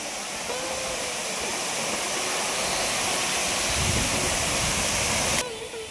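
Moopun waterfall in East Jaintia Hills, Meghalaya, beside a sandy beach: a steady, loud roar of falling water fills the scene throughout, with a faint voice briefly audible beneath it.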